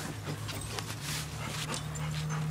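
A dog whimpers and pants in a steady, continuous stream close by, with a low hum running underneath and no speech.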